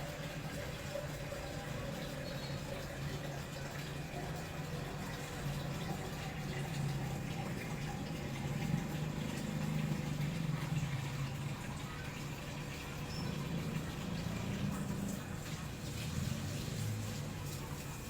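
Water pours and gurgles steadily into a dough mixer for a long stretch over the mixer's low machine hum, with a faint voice now and then.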